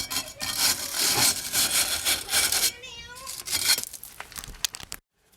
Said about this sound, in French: On brosse un petit peu de partout, à l'intérieur aussi également.